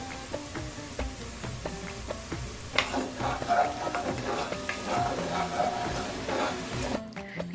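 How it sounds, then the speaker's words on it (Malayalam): Shallots sautéing in a Dutch oven, a soft steady sizzle with scattered clicks and stirring scrapes of a utensil against the pot that grow busier midway, quiet and close, with no talk. "ഇനി ഞാനിതൊന്ന് വഴറ്റിയെടുക്കട്ടെ"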